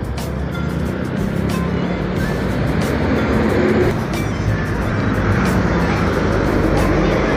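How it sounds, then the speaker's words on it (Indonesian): Harapan Jaya Pioner bus on an arterial road heading toward Surabaya, its engine rumbling steadily with road traffic noise close by, a constant loud drone throughout. "Bus Harapan Jaya Pioner di arteri ya ini menuju ke arah Surabaya."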